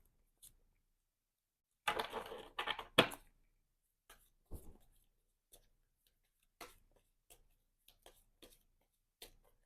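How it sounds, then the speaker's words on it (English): A player deck of Marvel Champions game cards being shuffled on a table, a dense riffle burst followed by scattered light card taps and ticks, close and quiet with no talking. "let's shuffle up our player deck here"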